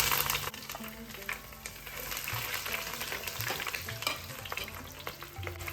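Chopped ginger and three green chillies hiss and crackle in hot oil with mustard seeds for a Kerala fish curry, as a spoon scrapes and stirs through a continuous close sizzle over a low hum.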